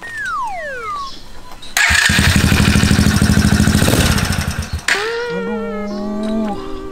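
A motorcycle that is out of fuel cranks without catching: about three seconds of loud, rhythmic starter churning that then cuts off, with whistle-like gliding tones before and after it.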